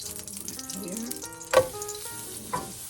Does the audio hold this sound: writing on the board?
no